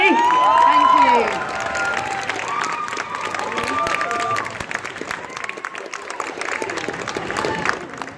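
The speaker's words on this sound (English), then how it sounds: "we need a huge round of applause for the one and only Pearl Mackie" A comic con panel audience in Birmingham breaks into loud applause and cheering, with whoops and shouts over dense clapping that gradually settles into a steady patter, and a voice briefly heard among the crowd.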